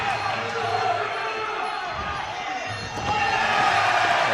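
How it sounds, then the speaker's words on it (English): A crowd roars and cheers at a WBC Victorian boxing title fight in Coburg, a dense, steady wash of noise that swells toward the end under continuous commentary. "Crowd now really getting behind"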